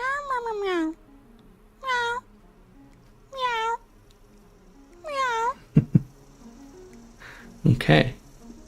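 In the video game Curiosity: A Cat Climbing Game, a cat meows four times at steady intervals, each cry clear and close, followed by a few sharp thumps and a brief rustle.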